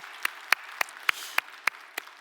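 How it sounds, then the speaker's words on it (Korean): A short burst of sharp hand claps at a church service, about eight evenly spaced claps in a steady rhythm, crisp and fairly close, with no voices. "박수 한번 감사히 박수하겠습니다"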